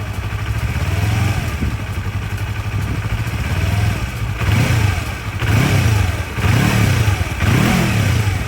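A Yamaha MT-03 motorcycle engine blips its throttle repeatedly, rising in several rhythmic revs from a steady idle, loud and close with no talking.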